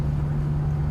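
Ferrari 360 being driven: a close, steady low engine drone with a constant humming tone under it, with no talking.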